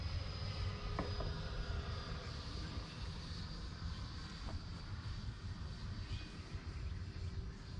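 An E-Flite F-16 RC model jet flies at a distance, a faint, steady whooshing electric ducted-fan whine holding level throughout, with a couple of faint clicks.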